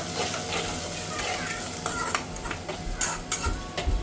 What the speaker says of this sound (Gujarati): હવે થોડીક ડુંગળી શેકાઈ ગઈ પછી એમાં અદરક લસણનું પેસ્ટ નાખી દીધું